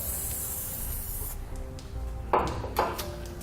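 Spray lubricant hisses from an aerosol can onto exhaust hanger bolts under a 2019 Lexus NX 300, a steady close hiss followed by two short louder bursts, with no talking.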